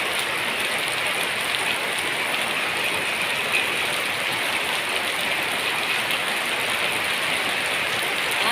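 Heavy rain pouring down in a steady, dense hiss that stays loud and even throughout, with no talking.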